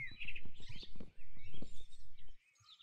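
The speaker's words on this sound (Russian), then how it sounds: "О, птички поют." Minecraft birdsong: a run of chirps and tweets with some rhythmic tapping underneath, moderately loud and steady, then fading to near silence at the end.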